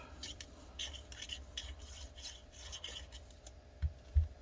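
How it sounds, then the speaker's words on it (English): A cleaning swab is pushed back and forth through a gun barrel, giving a string of close, soft rasping strokes at a steady rhythm with a couple of faint knocks near the end and no talking. "We'll do another swab through here."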